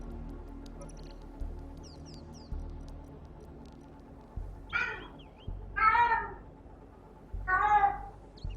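A pet cat meows three times, fairly close and clear, spaced a second or so apart over a low, steady background hum.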